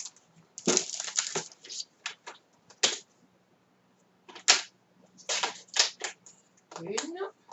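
A paper trimmer (massicot) chops 2 cm strips from paper offcuts, giving a run of sharp clacks and short slicing scrapes in uneven bursts, close and fairly quiet, with a brief pause in the middle.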